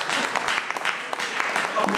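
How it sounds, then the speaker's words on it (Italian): A burst of clapping from a group, brisk and continuous, with voices murmuring underneath. "Un applauso ulteriore."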